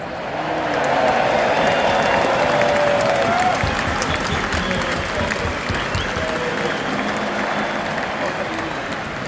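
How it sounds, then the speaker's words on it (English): Audience cheering and applauding for Ireland at a farmers' support gathering: a broad, steady wash of clapping and crowd noise that swells early and holds, dense and close, with voices mixed into the roar. "let's give them a big cheer for the big cheer for Ireland"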